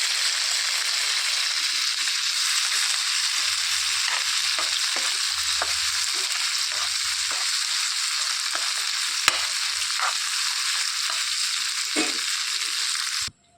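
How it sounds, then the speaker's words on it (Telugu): Onion and tomato frying in a pan for a restaurant-style paneer masala curry gravy, a steady loud sizzle running throughout with occasional soft scrapes and stirs of a spoon, no talking. "ఇందులోనికి టమాటా కూడా వేసేసుకొని ఈ రెండు మంచిగా ఫ్రై చేసుకోవాలి"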